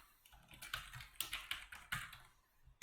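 Quick, light taps on a computer keyboard as a function name is typed into an Excel formula, a close uneven run of keystrokes with short pauses, alone without voices.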